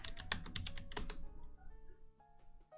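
Rapid keystrokes on a computer keyboard, a quick burst of clicky taps that stops after about a second, followed by quiet room tone.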